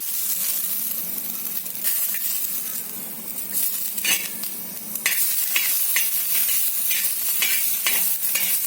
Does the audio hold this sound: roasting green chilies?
yes